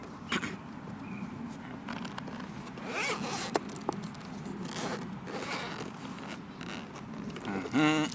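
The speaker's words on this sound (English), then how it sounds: "Only 1 zipper. We start opening it from the left." A single zipper on a bag being unboxed is pulled open in a series of close, scratchy rasps and short tugs, with faint handling and jangling noises around it and no talk.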